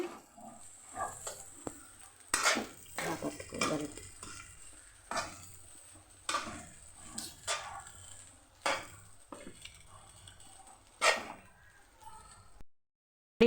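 Rice stirred and fried in a pan, a quiet scattered series of scraping and clattering utensil strokes with soft sizzling between them, irregular in rhythm, close by.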